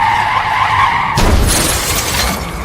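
A car skids loudly into a collision with another car that suddenly passes by, a long tire squeal abruptly giving way to a harsh crash with shattering impact noise, close and dominant.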